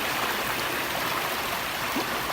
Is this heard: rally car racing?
no